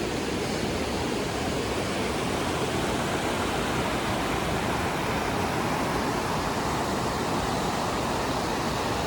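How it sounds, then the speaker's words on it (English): A waterfall in Oregon's Columbia River Gorge gives a steady, even broadband rush of falling water that holds constant throughout, with no voices over it. "So the waterfall is right there."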